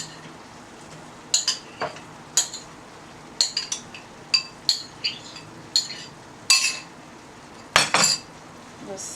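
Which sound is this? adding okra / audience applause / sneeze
adding okra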